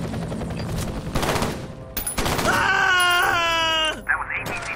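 Gunfire in the F.E.A.R. first-person shooter, loud rapid bursts under game sound and shouting, with a sustained tonal whine partway through.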